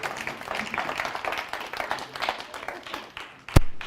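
A church congregation claps and applauds steadily during a French-language sermon, with voices mixed into the sound and one sharp loud clap near the end.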